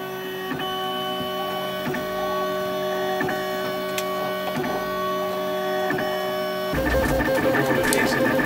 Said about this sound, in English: So I'm going to print that out on my Lulzbot AO101 and we'll see how it goes.